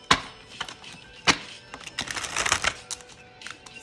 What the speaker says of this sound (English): I'm just going to shuffle on camera real quick so you can see.